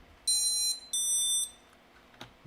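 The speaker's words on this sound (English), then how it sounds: "The first 3 beeps are the ESC booting up." A rebuilt FPV drone powers up, and its ESC and flight controller play electronic startup beeps: two long, loud, high tonal chimes close together, then a short click.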